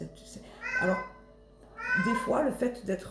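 A house cat meows twice, close by, with each call rising and falling while a person keeps talking in French over it.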